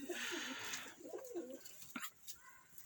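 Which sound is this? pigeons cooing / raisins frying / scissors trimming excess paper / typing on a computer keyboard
pigeons cooing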